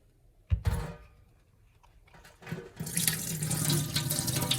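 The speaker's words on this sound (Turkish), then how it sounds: "Şimdi elimdeki zeytinin suyunu tamamen süzdürüyorum." Brine water being drained off green olives, with a sharp clunk and rattle first, then water starting to pour and splash steadily and fairly close, with no talk.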